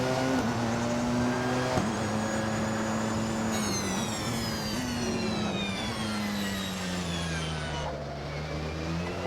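Porsche 919 hybrid prototype race car engine in the Assetto Corsa racing game, a loud continuous harmonic drone that steps up and down through gear changes and revs, with no talk.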